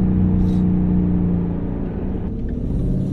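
A 2012–2013 Ford Mustang Boss 302 drives by with a loud, deep engine rumble that holds strong and then eases slightly as the car moves past, with no talking.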